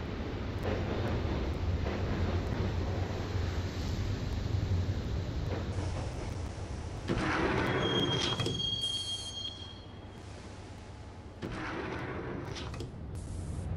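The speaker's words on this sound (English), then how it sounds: "the train doors had already shut behind me, and I was in for the ride" Train ride after the doors shut in the PC game Max Payne, a heavy continuous rumble and clatter of rolling carriages with shifting bursts and brief high metallic squeals, no voices.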